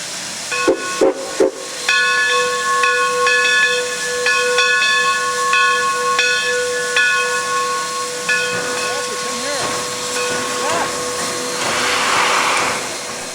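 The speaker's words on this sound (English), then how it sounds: "The horn sounding belongs to GP9 5623, which is leading the train westbound." Horn of GP9 diesel locomotive 5623 leading a westbound train: a loud multi-tone chord sounding in several long and short blasts, with steady hiss and rumble underneath.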